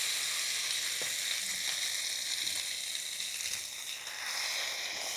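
Bread malai toast fries in butter on a hot pan, giving a steady, close sizzle and crackle that carries on throughout with small stirring touches.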